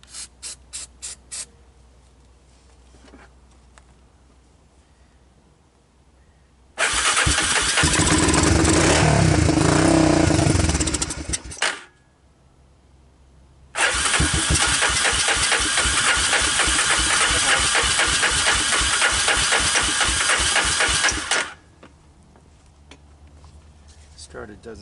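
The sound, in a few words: Honda TRX250 ATV engine starting and running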